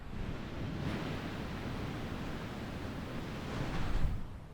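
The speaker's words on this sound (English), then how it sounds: "It's the very real ocean, by the way." Ocean surf on a beach, heard as a steady broad wash of rolling waves with soft swells building and fading, fairly loud and continuous, and no voices.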